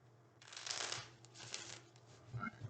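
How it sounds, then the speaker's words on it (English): Tarot cards being shuffled up close in quick riffling bursts, with a low steady hum underneath and a few soft taps toward the end. "One more shuffle"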